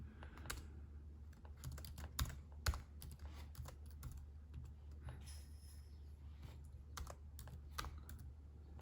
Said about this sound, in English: So I'm gonna type in the function.